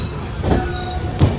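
Cholan Express passenger train rolling on rails as it nears Villupuram station, a steady rumbling carriage drone with faint wheel clatter and two louder low thumps, heard from inside the coach without talk.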